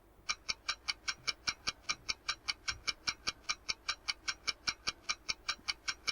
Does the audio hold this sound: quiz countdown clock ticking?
yes